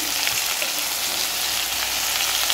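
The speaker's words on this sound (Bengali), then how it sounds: "অল্প তেলে এটা আমি ভাজবো" Potatoes and eggplant frying in a little oil give a steady, close sizzle with faint crackles, with no voices heard.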